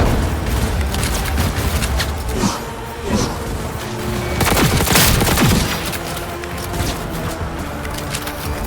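Sustained gunfire from a Cyberpunk 2077 shootout, dense overlapping rapid shots and booming blasts rolling continuously, loud and close throughout.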